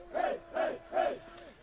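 Slovenian football supporters chant in a stadium, three loud rhythmic vocal bursts about 0.4 seconds apart rising from a crowd, with a fainter fourth echo trailing off.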